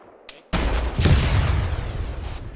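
Sudden loud gunfire at a BTR armored vehicle on a military training exercise: a sharp blast, then a second heavy report about half a second later, each trailing into a long rolling rumble, close and dominant.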